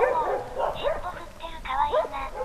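A mix of dog breeds, including a Shiba Inu, a beagle and a floppy-eared dog, bark and yip in quick, fairly close bursts, with a person talking over them.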